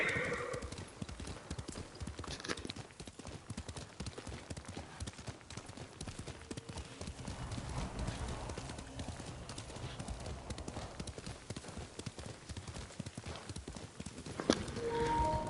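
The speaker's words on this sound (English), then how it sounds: "let's call Horsey Boy and get back on the road." Horse hooves clip-clop steadily on the road in the Ghost of Tsushima video game, a continuous fairly faint trotting rhythm with a brief whinny near the end.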